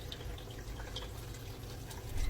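Melted homemade ghee is poured through a strainer into a ceramic dish, giving a faint, continuous trickle with light drips, quiet and close.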